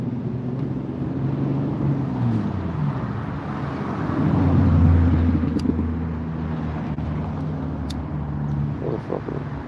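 A car passing at night on a street during a town's third Thursday event, a low rumbling engine and road noise that swells to a peak midway and then fades, with faint background chatter.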